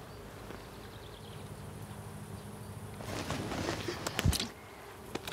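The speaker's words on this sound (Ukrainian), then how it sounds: "Комар." A mosquito whines as a faint, thin buzz over a steady hiss of room noise, then a burst of louder rustling and knocks close by near the end, with no talking.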